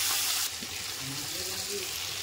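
Prawns dropped into hot oil in a home kitchen pan fry with a steady broadband sizzle and crackle, fairly close and continuous, with a louder burst at the start as they hit the oil.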